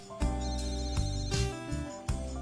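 A telephone ringing with an incoming call, a loud repeating electronic ringtone pulsing in regular bursts, close and clear with no voices.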